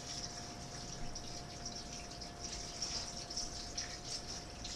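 Four cups of water pour into a pot of Hungarian beef stew (pörkölt), a faint steady gushing stream with a soft continuous hiss, alone and close.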